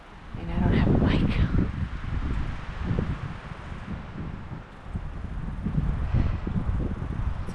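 Strong wind gusts of about 45 miles per hour batter an uncovered microphone outdoors on opening day of a Maine deer hunt, giving a loud, heavy rumbling roar that swells and eases while someone talks over it.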